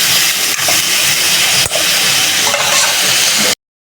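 Loud, continuous sizzle and hiss of potatoes frying in hot oil, with a few faint knocks, cutting off abruptly near the end.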